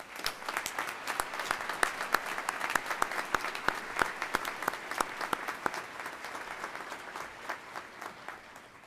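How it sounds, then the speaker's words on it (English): Graduates at a naval postgraduate school fall graduation ceremony receive a round of applause, many hands clapping in a dense, steady patter with sharp individual claps standing out, moderately distant in a large hall. "A big round of applause for all of you"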